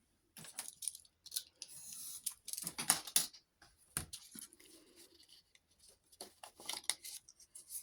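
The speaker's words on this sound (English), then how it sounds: "I want to cut a little bit off there, it's overhanging slightly." Close, quiet scissor snips trim overhanging grungy wallpaper-style paper during a craft project. The short crisp cuts come in irregular bursts with small rustles between them, and no one speaks.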